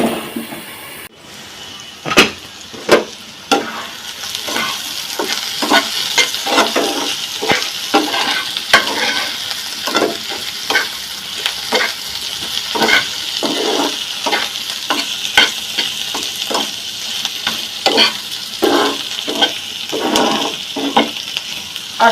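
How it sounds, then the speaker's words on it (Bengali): Sliced onions fry in oil in a pan while being stirred toward browning, a continuous loud sizzle punctuated by a long run of regular spatula scrapes and knocks against the pan, close up with no speech. "আসলে এইভাবে পেঁয়াজ ব্রাউন কালার করতে হলে কিন্তু অনেকটা লং টাইম লেগে যাবে"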